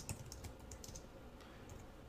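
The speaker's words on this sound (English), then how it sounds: "I can speed along my typing" Rapid tapping on a computer keyboard, quiet, with irregular clusters of light key clicks over about two seconds and no voices.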